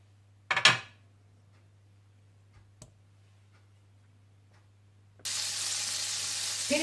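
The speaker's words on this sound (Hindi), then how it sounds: "सबसे पहले आप ऑलिव ऑयल और मक्खन डालकर मीडियम हीट पर गर्म कर लीजिए।" Olive oil and butter heating in a pan on medium heat, a steady bright sizzle that starts suddenly after a quiet stretch with a couple of small knocks and clicks.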